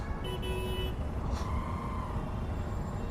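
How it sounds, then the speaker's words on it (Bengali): Heavy road traffic in a jam rumbles with a dense, steady low engine drone, a couple of short horn toots early on and a brief hiss like an air brake, heard from close range on a motorbike. "প্রচণ্ড জ্যাম এদিকটা।"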